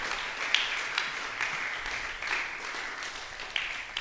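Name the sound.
church congregation applause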